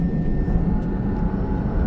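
A passenger plane with rear-mounted engines, a small jet, gives a steady, loud engine drone and rushing roar that holds evenly throughout with no break.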